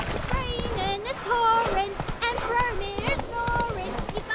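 Roach the horse gallops in The Witcher 3, hooves clip-clopping in a steady running rhythm beneath talking and music.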